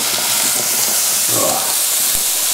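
Carrots sizzle loudly in a hot pan as they are mixed for a fish pie, a close, continuous hiss with faint stirring scrapes.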